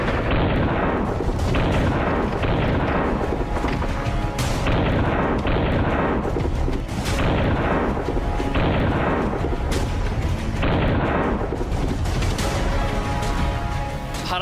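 Heavy Bofors artillery gun booms fire repeatedly at roughly regular intervals, loud and close, each blast rolling into the next with no talking.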